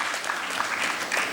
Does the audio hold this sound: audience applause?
yes